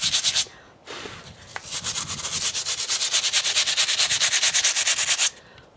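Steel wool scrubs hard over a dried apple gourd in fast, even back-and-forth strokes, close and loud, after a short opening burst and a pause.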